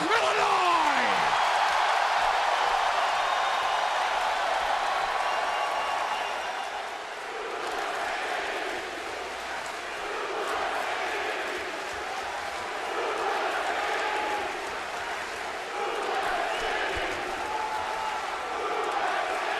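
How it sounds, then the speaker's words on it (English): Capacity arena crowd at the Allstate Arena in Chicago chanting Suplex City in unison at a Raw wrestling event, a loud, dense roar of many voices rising and falling in steady waves throughout. "Capacity crowd in Chicago chanting Suplex City in unison."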